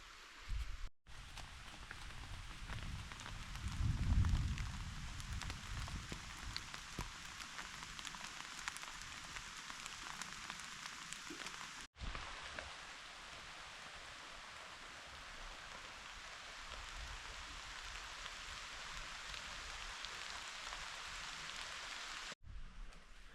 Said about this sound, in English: right now with the rain coming down, we're just gonna hang out in the tent